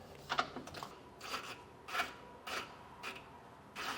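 On a 2024 GMC pickup, a socket on a long extension turns 10mm nuts, making a series of short rasping ratchet bursts at a steady, unhurried rhythm, close and moderately quiet.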